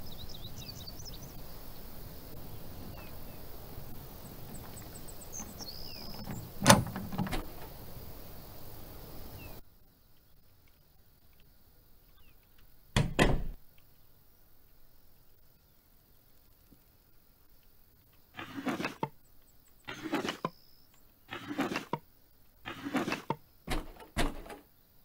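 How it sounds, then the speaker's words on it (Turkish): A door lock is worked open in Thief Simulator. Quiet ambience gives way to separate bursts of mechanical clicks and rattles, bunched closer together toward the end. "Evet, kapı kilidi."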